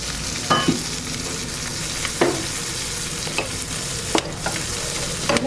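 Whole spices (star anise, fennel seeds, cardamom pods, bay leaf and cinnamon sticks) sizzle steadily in hot oil in a pan, with occasional scraping stirs and clinks of a spoon breaking through the constant frying hiss.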